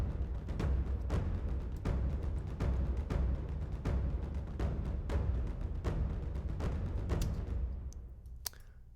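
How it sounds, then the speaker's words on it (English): Taiko drum ensemble playing hybrid film score percussion: loud, booming, evenly spaced hits in a steady driving rhythm for about eight seconds, then fading into sparse taps, with no talking. "And then we have this taiko ensemble"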